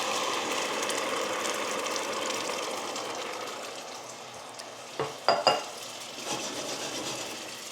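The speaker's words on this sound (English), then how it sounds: "as soon as it starts sizzling" Slivered garlic and tomatoes sizzling in a pan for marinara sauce, a steady soft frying hiss with a few brief clinks of utensil on pan near the end.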